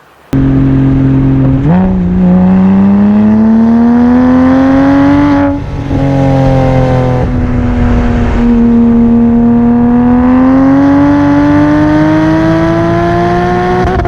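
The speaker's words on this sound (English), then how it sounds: "with the addition of the Circuit Werks V2 exhaust kit on here, it's really opened it up. It's not obnoxiously loud by any means, but it's got a really nice deep tone to it." A Porsche Cayman S 987 fitted with a Circuit Werks V2 exhaust idles and revs with a deep, smooth tone, the engine note climbing and settling in long, loud, close-up sweeps with no talk.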